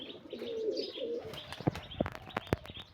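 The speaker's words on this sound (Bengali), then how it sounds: "এটা মাদি কবুতর।" Domestic pigeons, Rajshahi giribaz and Pakistani breeds, cooing in soft throaty phrases, followed by a few sharp clicks and wing flaps, close and clear.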